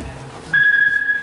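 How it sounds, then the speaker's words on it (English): A steady, pure high-pitched sonar ping rings out suddenly underwater over a low background hum, held evenly for about a second like an electronic ping. "what you're hearing is sonar, sound underwater"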